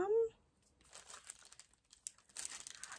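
Crinkly wrapping on a Christmas present is pulled open, giving irregular papery rustles and crackles up close after a brief voice at the start.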